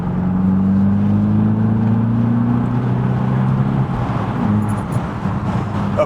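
A Seat Ibiza Cupra with a new Milltek exhaust drones loudly and steadily, its engine note climbing slowly and then easing off, with no talking over it.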